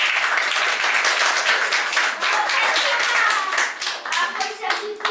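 An audience at a music workshop in Marau claps for Júlio, bright close hand claps with individual slaps audible, fading slightly toward the end, with a voice and other talk mixed in.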